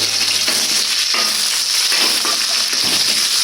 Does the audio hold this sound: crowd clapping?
no